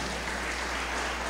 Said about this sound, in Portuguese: E você pode aplaudir Jesus pela sua palavra